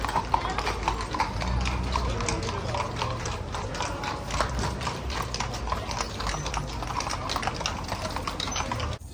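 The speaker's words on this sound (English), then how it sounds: "a whole line of horses, probably 60, 70 horses and buggies lined up" Many horses' hooves clip-clop on pavement in a busy overlapping patter from a long line of horse-drawn buggies, carriage wheels rumbling beneath, with voices faintly in the background.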